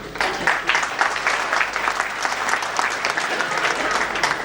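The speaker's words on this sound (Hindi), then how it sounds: "शत प्रतिशत तालियां बढ़नी चाहिए।" A room full of people claps for IAS officers at a felicitation function, a thick, even burst of applause lasting a few seconds with faint crowd murmur beneath.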